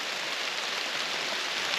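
Steady rain pours down during a storm in wooded creek bottoms, a dense, even hiss that holds constant and close throughout with no voices.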